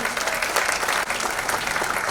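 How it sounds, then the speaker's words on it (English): Audience applause at a celebrity promotional event, a dense, steady wash of clapping from a large crowd that holds at an even level for the full stretch, with no voices rising above it. "A big round of applause, ladies and gentlemen."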